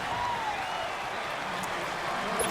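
Stadium crowd roar from the Madden NFL 19 football video game, a steady dense wash of cheering and applause at home field, loud and continuous without a break.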